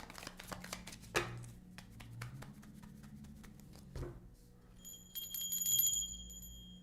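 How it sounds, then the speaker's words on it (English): Tarot cards are shuffled by hand in quick rustling, snapping bursts, then a pause and more riffling, close and quiet, with a faint high chime ringing near the end. "I'm going to give you a good little shuffle here"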